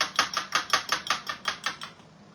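A spoon stirs a mixture for pumpkin cornbread in a large jar, making about ten quick, evenly spaced clinks and scrapes close by before trailing off.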